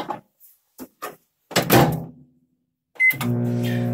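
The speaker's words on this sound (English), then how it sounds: "we're going to pop this back in the microwave" A microwave oven melting a bowl of soap base gives a few soft clunks and a door thud, then a beep and a steady running hum.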